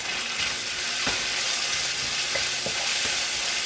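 Ingredients for tom yam seafood pasta fry in a pan, a dense, steady sizzle with a few light stirring taps and scrapes, close and fairly loud, no talk.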